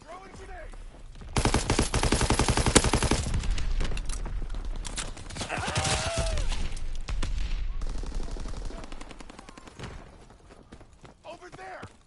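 Close, heavy automatic gunfire and blasts from a Call of Duty WW2 hardcore match surge in after a quiet start, peaking repeatedly and then tapering off, with shouted voices heard over the din.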